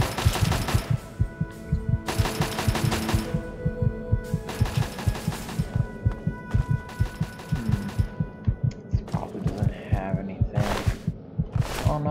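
Turret firing in Fallout 3, rapid rhythmic bursts of gunfire that pulse steadily through the whole stretch, loud and mechanical, broken by short pauses.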